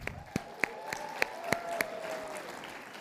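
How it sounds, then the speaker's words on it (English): An audience at an Appian World 2023 live build challenge breaks into a round of applause, with steady massed clapping and a few sharper claps standing out, continuing at an even level for about three seconds. "a round of applause"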